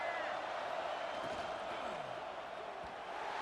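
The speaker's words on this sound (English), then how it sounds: "Here comes the noise from this big crowd in Happy Valley on third down." A large stadium crowd in a college football video game roars in a steady, dense wash of noise on third down that stays loud throughout, with faint voices mixed in.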